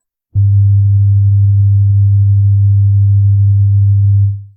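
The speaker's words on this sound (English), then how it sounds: "This is the sound of 100 Hertz frequency." A steady, low 100 hertz sine tone starts abruptly and holds at an even loudness for about four seconds before cutting off.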